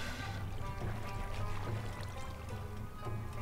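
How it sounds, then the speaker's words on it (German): Flowing water in the Minecraft video game, a continuous rushing, pouring wash at moderate level that stays steady throughout. "Ich werde immer zur Seite gedrückt von diesem scheiß Wasser."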